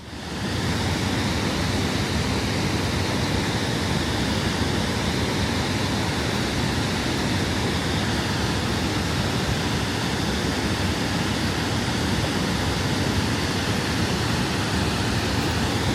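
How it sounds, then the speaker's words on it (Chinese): Detian waterfall in the rainy season, a huge cross-border falls about 208 metres wide, roars as a dense, unbroken wall of loud rushing water with no voices. "当每年7月到11月，德天瀑布进入到这个雨季的时候可以看到瀑布万马奔腾、气势磅礴的壮观景象"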